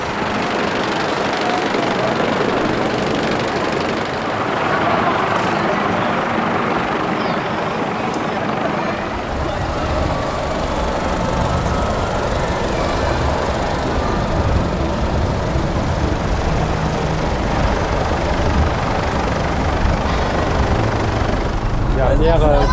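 The front propeller of the airplane ride attraction at Tibidabo amusement park in Barcelona drives the plane around its central axis, producing a loud, continuous whirring roar with steady buzzing that persists throughout, with some faint voices beneath it.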